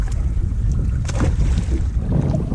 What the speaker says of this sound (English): I got my wind blowing from the northwest